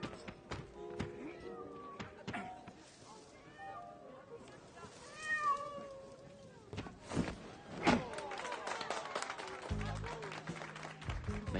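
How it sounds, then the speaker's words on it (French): A cat stuck up a tree meows in several short cries amid outdoor street sounds and a thump, heard faintly at a distance with people talking nearby. "Son chat a grimpé dans l'arbre et il n'arrive plus à descendre."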